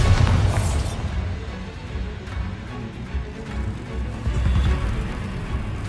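Bombarda blasting spell from Hogwarts Legacy going off, a dense low rumbling boom with crumbling debris that starts strong, eases, then swells again near the end, with no voices.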